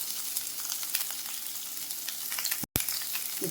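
Onion and garlic frying in a pan for a beans ullikaram curry, a steady close sizzle with crackling pops throughout and a brief dropout near the end.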